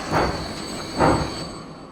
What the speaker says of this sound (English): with these trains departing, and them heading for firstly Taunton and then Reading